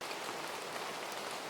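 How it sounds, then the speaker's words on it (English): A steady stereo rain ambience for an anime scene hisses evenly with dense, soft patter of drops, broad and constant with no gaps, voices or distinct foreground events. "So here we've just got a stereo rain ambience."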